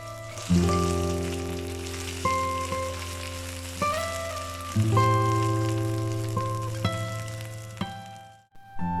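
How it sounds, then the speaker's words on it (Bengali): Spices with a spoonful of ginger paste fry in a pan for an aloo dum in coconut milk, a steady close sizzle with a few sharp bursts as ingredients drop in, no talking. "মশলাগুলো একটু ভাজা হয়ে গেলে এবার আমরা দেব 1 চামচ আদা বাটা,"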